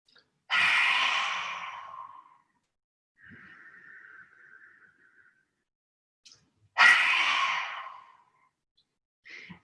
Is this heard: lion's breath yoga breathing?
yes